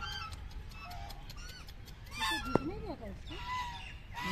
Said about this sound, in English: A lot of ducks, I think,